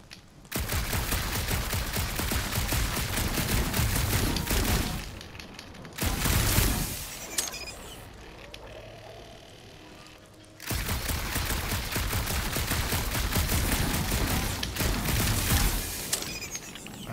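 Blaster charge shots fired in Guardians of the Galaxy, long bursts of rapid, dense energy fire with sharp cracks and impacts, interrupted by a couple of brief lulls before resuming loudly.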